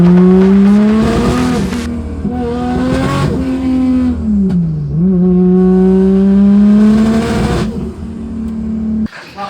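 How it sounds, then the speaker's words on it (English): A pro drift car engine misfires under load, a loud close droning note that sags and climbs with rough stuttering breaks and crackles, a few brief bursts of tyre noise over it, with no speech. "we've got a bit of a misfire issue that I can't figure out"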